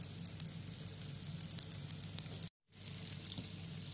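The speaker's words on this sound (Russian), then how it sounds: "Наливаю достаточное количество растительного масла и обжариваю с двух сторон." Vegetable oil sizzles and crackles steadily as potato-filled dough pies fry, a close, continuous spitting hiss that cuts out for a split second before resuming.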